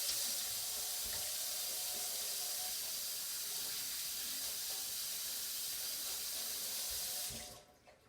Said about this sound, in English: Then I'm going to go wash my hands